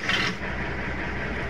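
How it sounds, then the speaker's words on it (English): Steady vehicle engine drone from Farming Simulator 22, a continuous low mechanical rumble with a brief brighter hiss at the start, heard alone at moderate level. "And actually, I do love that engine sound."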